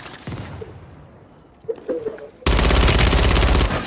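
Automatic gunfire in the video game Call of Duty Warzone: scattered shots and faint chatter give way to a loud, sustained burst of rapid fire that dominates the end.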